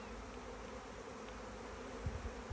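Honey bees in a strong, opened hive drone in a steady close-up buzz on a mild day, with a few soft knocks near the end and no voices.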